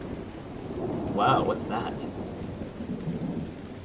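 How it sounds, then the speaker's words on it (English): Steady rain with rolling thunder in the video game Dragon Age Inquisition, set in the Crestwood area, a louder rumble swelling near the middle while a voice speaks briefly over the storm. "Still raining. Always raining."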